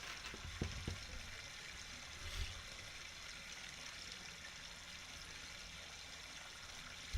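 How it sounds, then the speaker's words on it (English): Waterfall pouring in a steady broadband rush that holds at an even level throughout, with a few faint low bumps near the start and end. "You like the waterfall, bro?"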